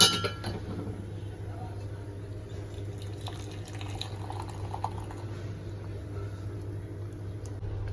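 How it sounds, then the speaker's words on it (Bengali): Freshly made milk tea is poured into a cup in a kitchen, with a light clink at the start and then a soft, continuous trickle over a low background hum. "চাটা খালি ঢেলে নেবো"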